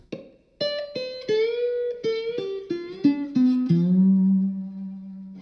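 Acoustic slide guitar notes descend one by one in a minor scale, each gliding into pitch and ringing briefly before the next; the last note sustains low and full.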